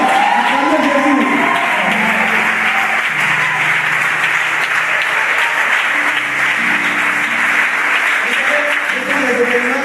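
A church congregation at a French-speaking service cheers and applauds loudly and continuously, with clapping and raised voices filling the room throughout, and low sung or shouted tones rising beneath the crowd noise.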